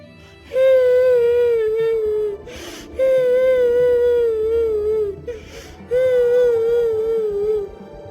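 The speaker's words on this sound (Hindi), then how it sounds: "ये रोने की आवाज किसकी है?" Crying in a forest within a narrated story: three long, loud wailing sobs, each rising and then trailing off, separated by brief gasping breaths, close and alone with no other voices.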